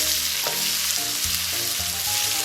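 Scallion, ginger, garlic and dried chili hit hot oil in a wok with pork belly, giving a steady loud sizzle with stirring scrapes, no voices.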